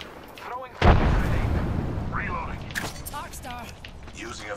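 Gunfire in Apex Legends: a sharp, loud shot or blast lands about a second in, followed by a sustained rumbling wash of game noise. Voices talk over it before and after.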